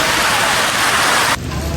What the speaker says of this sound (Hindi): अच्छी बारिश आ रही है